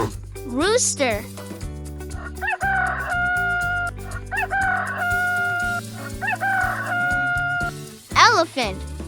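A rooster crows repeatedly with loud, drawn-out cock-a-doodle-doos, interspersed with clucking hens, set against playful children's background music.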